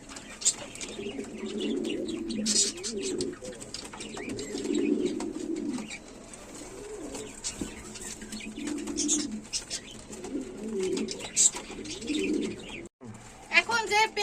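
Fancy pigeons offered for sale in pairs coo in low, repeated rolling calls, with a few higher chirps mixed in, under fairly steady background noise.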